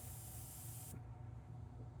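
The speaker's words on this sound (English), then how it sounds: "I always just do a test spray really quick" A Revolt 2K flash clearcoat is test-sprayed in one steady, close hiss lasting about a second before cutting off, leaving a low background hum.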